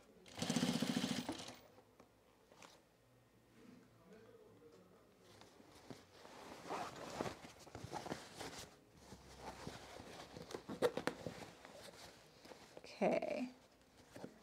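A sewing machine stitching denim jeans runs in short bursts of rapid mechanical chatter with pauses between them. A person talks quietly now and then, and there are small handling noises.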